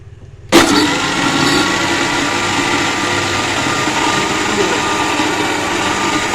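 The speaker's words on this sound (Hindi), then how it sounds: "अब हम एक बार फिर से ब्लेंडर चला देंगे और ब्लेंडर को हमने चलाना फिर से लो स्पीड पर ही है।" A kitchen blender switches on at low speed, mixing chicken shawarma marinade for BBQ chicken shawarma, a sudden start followed by a steady loud motor whir that runs on unchanged.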